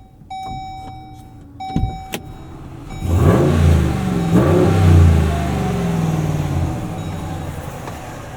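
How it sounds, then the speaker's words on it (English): A few clicks and a chime, then a 2026 Ram 1500 pickup's 5.7L HEMI V8 fires up and its exhaust roars and revs loudly before easing into a deep, rumbling idle. "Let's start this thing up. You guys can hear the exhaust."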